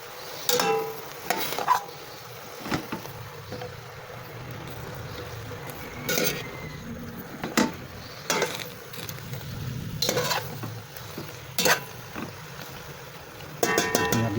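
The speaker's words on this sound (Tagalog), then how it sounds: "haluin ko na to. Papaibabalin ko yung sibuyas at bawang." Onion and garlic sauté in a pan for adobong kangkong while a utensil stirs, giving a low sizzle with scattered scrapes and clacks against the pan, close and without talk.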